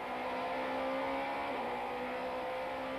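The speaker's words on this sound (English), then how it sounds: "Race cam action from the Van der Linde BMW, and he is attacking down the inside of Gestetner corner." A BMW super touring race car engine, heard onboard during the 1994 Kyalami race, drones hard and steady through a corner, its pitch dipping briefly midway before holding again.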